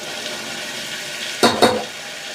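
Tomato and onion frying in a pan give a steady soft sizzle, broken near the end by two brief louder scraping bursts.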